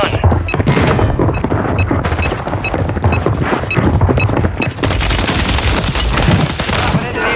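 Rapid automatic fire from a Welgun in Call of Duty on Rebirth Island, dense, loud bursts filling the whole stretch with booming impacts mixed in.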